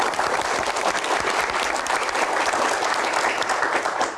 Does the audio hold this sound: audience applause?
yes